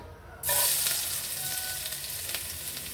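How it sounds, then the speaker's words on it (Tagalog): Minced garlic hits hot cooking oil in a frying pan with a sudden loud sizzle that settles into a steady crackling hiss, heard alone at close range. "lagay natin ang ating bawang"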